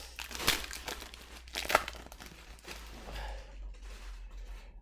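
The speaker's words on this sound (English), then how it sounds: "that's my cats climbing in and out of the plastic bags on the floor." Cats climb in and out of plastic bags on the floor, making intermittent crinkling and rustling bursts with a couple of sharper crackles, fairly faint and close, with no talking.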